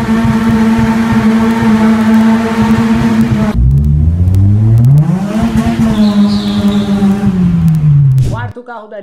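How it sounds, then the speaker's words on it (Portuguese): A Peugeot 206 1.6 engine revs hard and accelerates, its harmonic drone climbing and falling through several gear-like sweeps, loud and close, before cutting off at the end. "só aumenta o som e curte a sinfonia que é esse carro acelerado."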